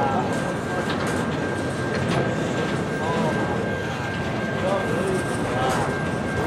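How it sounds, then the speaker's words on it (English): Continuous rumbling rail noise of a passing Norfolk Southern freight train, with squealing wheel sounds and a steady high whine, loud and close throughout. "here comes the end of the train after a diverging clear"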